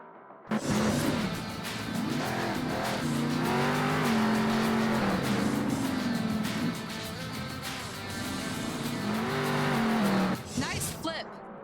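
A monster truck in the Monster Jam Steel Titans PC game roars as its engine revs up and builds speed for a big jump, with the pitch rising and falling steadily before a final surge and cutoff.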